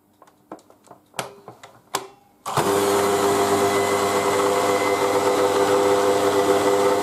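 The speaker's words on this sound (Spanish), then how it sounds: "Y ahora lo ponemos a amasar." Dough mixer machine kneading bread dough: a few sharp ticks and clicks first, then the motor starts and runs with a loud, steady whirring drone that holds to the end.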